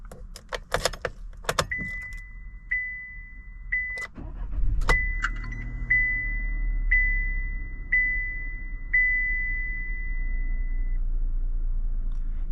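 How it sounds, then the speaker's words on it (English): Keys jangle, a few clicks follow, then a 2024 Chevy Trax engine starts and settles into a low idle while a chime beeps repeatedly at an even pace. "Let's turn it off and start it up again."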